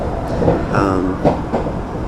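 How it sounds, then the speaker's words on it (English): Steady rumble and rattle inside a train carriage pulling out of Brisbane, with faint clicks and a brief whining tone over a continuous rolling drone. "Okay, so I'm on the train and just leaving"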